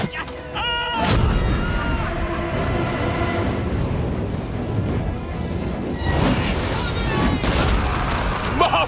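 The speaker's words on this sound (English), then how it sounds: "Catapultae could be used with incendiary ammunition. This is the big one. This is it. The flaming incendiary dart." A flaming incendiary dart fired from a catapult in the video game Total War: Rome II, heard as a loud booming launch and crash that rumbles on as heavy battle noise, with an excited voice shouting over it.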